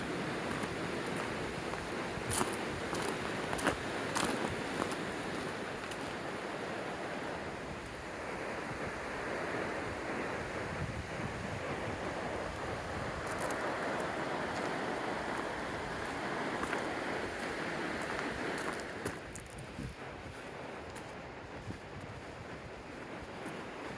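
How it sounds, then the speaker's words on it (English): A creek runs in a mountain gorge after a flood, giving a steady, close rushing hiss of water mixed with buffeting wind noise against the microphone. "There's a creek right over there."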